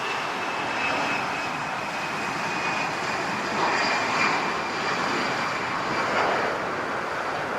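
An Aer Lingus Airbus A330 on approach to land at LAX, its steady jet engine roar loud and continuous throughout with a broad whooshing rumble and no voices.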